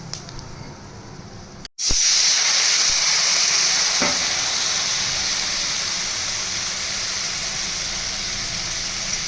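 Spices with curry leaves and chili powder hitting hot oil in a pan and then doused with water: after a brief pause comes a loud, sudden sizzle that settles into steady hissing frying to the end, with no voices.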